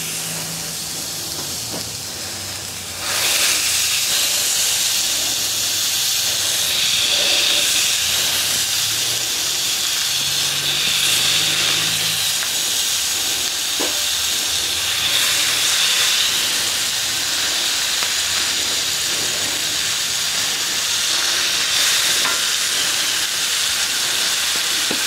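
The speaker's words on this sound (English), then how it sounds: "Let's listen to that sizzle." Loud, continuous sizzling hiss of food frying in a hot pan, starting abruptly and crackling steadily with no talking.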